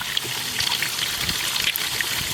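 Water from a hose or tap trickles and splashes into a plastic trash can filled with black walnuts, a steady, close pouring that runs continuously with no talking.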